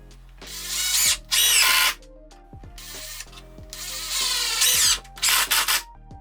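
Power drill driving screws into a wooden frame for a resistance band bar, several whining bursts with rising and falling pitch and brief pauses between them, loud and close.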